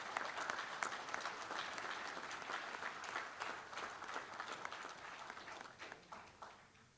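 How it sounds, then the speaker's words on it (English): An audience at a convention general session claps in sustained applause, a dense, even patter of many hands that holds for several seconds and then thins out toward the end, with no talking over it. "Let's give these outstanding posts a nice round of applause."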